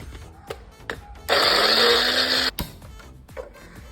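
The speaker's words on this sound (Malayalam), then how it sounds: "കൊച്ചുള്ളി പച്ചമുളക് ഇഞ്ചി ഇത് ഇത്രയാണ് ആയിട്ടാ വേണ്ടത് നമുക്ക് അരച്ചെടുക്കാം അടിച്ചെടുക്കാം" A blender grinds shallots, green chili and ginger in one loud, steady whir lasting just over a second, with quieter kitchen clatter before and after.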